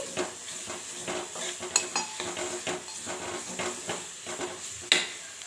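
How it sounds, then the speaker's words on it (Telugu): A spoon scrapes and stirs through a garlic chili paste in a pan, with steady sizzling frying and repeated clinks against the metal, no voices. "ఇప్పుడు చక్కగా మొత్తం కలుపుకోవాలి, పచ్చి వాసన పోయేదాకా వేయించుకోవాలి."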